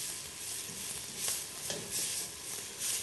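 Chopped onion and garlic sizzle and hiss steadily in a hot oiled pan, with soft scraping strokes of a stirring spoon rising every so often over the constant crackle, close and moderately quiet.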